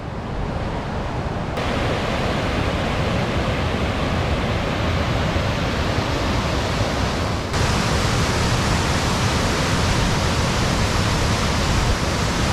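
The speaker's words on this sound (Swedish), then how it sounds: "Häftigt vattenfall." A powerful waterfall along a mountain hiking trail in Swedish Lapland roars as a dense, constant rush of falling water, loud and close, with no pauses.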